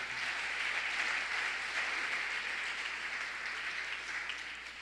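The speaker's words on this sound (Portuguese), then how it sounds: "Dá um aplauso forte ao Senhor." Church congregation applauding after a sermon, a steady dense wash of clapping that stays loud and even throughout with no voices standing out.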